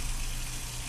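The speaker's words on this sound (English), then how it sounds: "Apply the soap. Wash the front and back of your hands" Tap water runs in a continuous, even gush while hands are washed with soap beneath it, close and steady.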